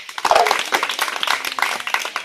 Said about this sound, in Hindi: ए लइका लो तनी ताली बजाओ